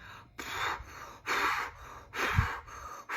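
Someone imitates the panicked gasping breaths of a bad dream: four loud, raspy inhale-exhale bursts in an uneven rhythm, close to the microphone, with no words spoken.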